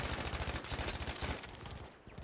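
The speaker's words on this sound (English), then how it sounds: "there's so many enemies that you're just shooting at everything" Rapid, dense gunfire from the shooter Battlefield V, a steady rattle of overlapping automatic shots that carries on through the whole moment before easing slightly, loud and without talk.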